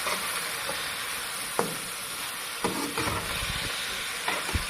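Chicken fried rice ingredients fry and sizzle in a pan, a steady close hiss broken by occasional scraping stirs, with no talking.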